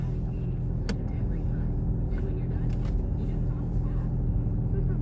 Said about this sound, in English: I gotta crank my car up just a tad bit because I need to run the battery.